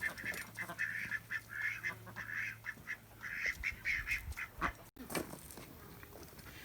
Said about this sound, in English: we're going to feed the ducks